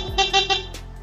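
A 2019 Yamaha R15 V3 motorcycle horn gives three quick, close, loud honks in a row, followed by a fainter short toot.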